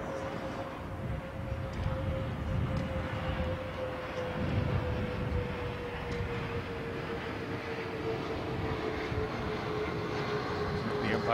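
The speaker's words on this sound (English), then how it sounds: "There's a plane flying by, the noise." An airplane passes overhead at a cricket match during a T20 final, a steady drawn-out drone with a slowly falling pitch. It lasts the whole stretch over broad outdoor background noise, with faint voices in places.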